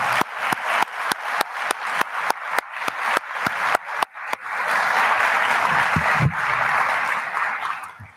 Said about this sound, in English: But one more round of applause.